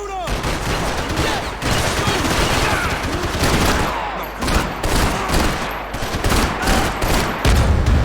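Dense, sustained gunfire from a Max Payne 3 firefight, overlapping bursts and single shots pounding almost continuously for eight seconds, loud and close, with brief shouted voices mixed into the barrage.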